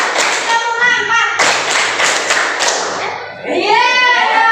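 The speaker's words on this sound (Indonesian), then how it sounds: "kita tepuk satu, tepuk dua, tepuk tiga, tepuk empat" A class of children clap in unison during a lesson, a run of fairly loud, steady rhythmic claps that come and go, with children's voices and talk mixed in and over them.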